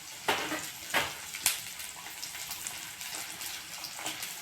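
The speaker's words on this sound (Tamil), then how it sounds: "ஹை ஃப்ளேம்லேயே வச்சு வதக்குங்க" Sliced onions sautéing in a pan over a high flame for tomato chutney, a soft steady sizzle broken by a few sharp scraping stirs near the start.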